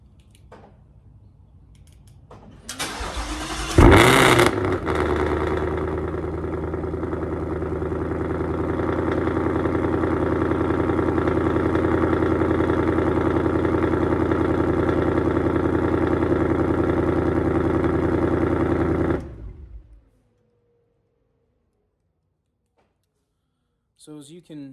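Supercharged 2018 Ford Mustang GT with a Whipple blower, custom headers and race cats cold-starts: a sharp starter crank and loud bark, then a steady, deep, rumbling high idle that runs about fifteen seconds before the engine is shut off.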